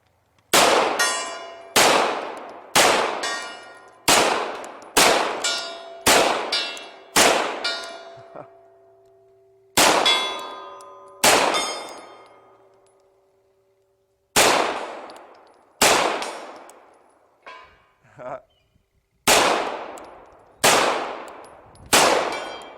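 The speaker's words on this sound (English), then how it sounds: "Let's go long range. Let's go to the gong." Pistol rounds from a Glock and a Beretta 92FS strike a steel gong target at long range, giving sharp metallic clangs in quick strings of several hits, each ringing out briefly, with a few longer gaps between volleys.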